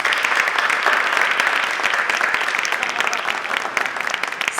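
Audience applause at an Invest in US anniversary event in Washington, D.C., a dense, steady wash of many hands clapping that stays loud and even throughout, with no talking over it.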